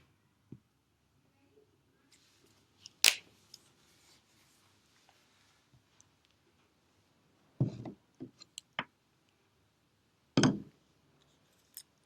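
A few sharp scissor snips during a crafting activity, with scattered single cuts and a short cluster of quick snips, fairly close against a quiet room.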